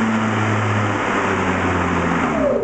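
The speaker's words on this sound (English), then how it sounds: "You can hear the motor there start up pretty fast" The electric motor of an Efco LRI 44 P cordless lawnmower spins up quickly into a loud, steady hum with a faint rising whine near the end. The sound is close and has no talking over it.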